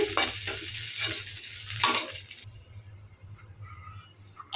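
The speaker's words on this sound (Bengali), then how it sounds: "এখন আমি শুটকি ভর্তার যে শুকনা মরিচটা ওটা আমি হালকা একটু বেজে নিচ্ছি" Dried red chilies crackle lightly in a hot pan, sizzling with stirring scrapes for the first half before the hiss fades to a quieter, thinner simmer.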